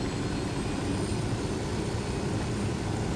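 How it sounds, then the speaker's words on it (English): Helicopter flying in the game Ghost Recon Wildlands, a steady dense rotor and engine roar that holds loud and constant throughout with no speech. "I'll end this video today with me flying off into the sunset with my ghost in our Santa Muerte helicopter"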